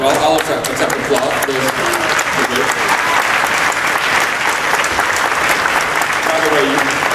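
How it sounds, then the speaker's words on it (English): Commencement audience at a college keynote breaking into sustained applause, a thick continuous roar of clapping from a large crowd, steady and loud throughout with faint cheering underneath. "Well, I'll accept applause."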